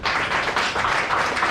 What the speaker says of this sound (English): I therefore request you to please give a round of applause to our Elders